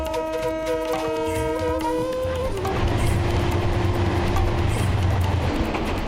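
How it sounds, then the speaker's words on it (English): A train horn blares loud and close from aboard a crowded train, a chord of sustained tones held for a couple of seconds before it cuts off, leaving the rumble and rattle of the moving rail cars. "I've never felt a loud sound in my brain like I do with this train horn."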